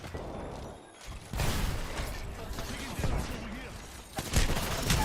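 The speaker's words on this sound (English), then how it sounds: "Making contact with the enemy. Firing. Shot fired at me." Gunfire in a shooter video game: dense, chaotic bursts and rapid shots with crashes and explosions, loud and continuous across the clip, with a brief lull near the start and voices talking over the action.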